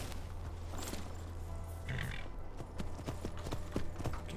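A horse's hooves clip-clop steadily on the ground in Skyrim's marshlands, with a brief whinny and a low ambient drone underneath, moderately close and alone without talk.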